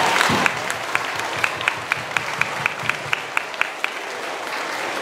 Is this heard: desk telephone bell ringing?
no